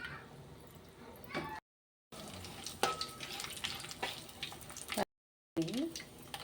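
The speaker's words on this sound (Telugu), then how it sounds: "ఆయిల్ వేడైంది, తాలింపు గింజలు వేస్తున్నాను." Mustard and other seasoning seeds crackle and sizzle in hot oil for a brinjal curry, a close, busy popping hiss broken by two short silent gaps.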